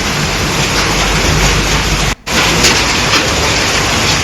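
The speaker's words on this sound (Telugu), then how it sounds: "ఒకవైపు వర్షం కురుస్తూనే ఇంకోవైపుగా భారీ గాలి దుమారం, చెత్త చెదారం మొత్తం కూడా గాల్లో కలవడం చూస్తున్నాం" Heavy rain pours with strong gusting wind during a storm in Uttar Pradesh, a loud, dense, unbroken roar with one brief drop-out midway.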